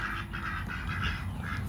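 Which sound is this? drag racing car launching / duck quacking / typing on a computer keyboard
duck quacking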